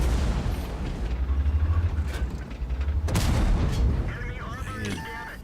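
Tank cannon fire in World of Tanks, an AMX 50B autoloader shooting at a Centurion Action X in a tier 10 battle, heard as loud booming shots and rumble over continuous game noise, with commentary over the top.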